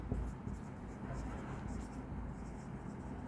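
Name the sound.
writing on a board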